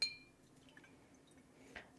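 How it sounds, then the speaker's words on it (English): A glass water jug with water in it clinks faintly, with a brief bright chink at the start and light liquid sloshing and small taps through a quiet room. "What you're hearing is this new water jug I have is glass"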